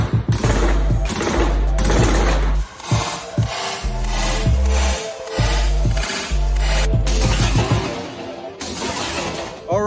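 An Arsenal SAM7K AK pistol fires while the shooter moves, loud, close bursts of rapid shots broken by short pauses, with sharp cracks and metallic rattle filling the full ten seconds.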